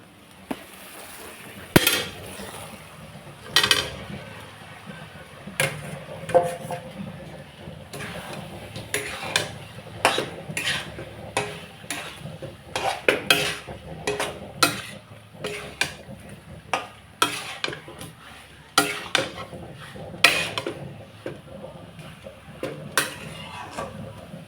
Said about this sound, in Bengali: সবজিগুলো ঢেলে দেবো।